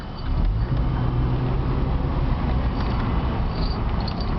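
A car engine driven through a neighborhood, with a steady, fairly loud low rumble of acceleration and road noise continuing throughout, no voices.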